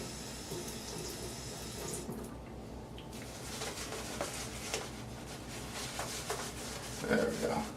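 Tap water runs into a sink while a shaving brush is rinsed out after a wet shave. The water makes a soft, steady hiss that shifts slightly as the stream is disturbed, with a few faint clinks near the end.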